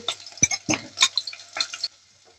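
Mustard seeds, green chilies and onion fry in oil in a pan for a bottle-gourd curry, heard as close, uneven bursts of crackle and stirring scrapes that stop abruptly near the end.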